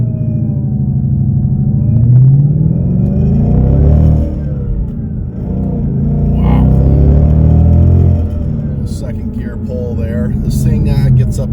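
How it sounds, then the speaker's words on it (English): A 2017 Ford Mustang GT pulling away and gathering speed, its loud engine rumble rising and falling through a couple of strong revving sweeps, heard from inside the car. "All right, setting off in the 2017 Mustang GT."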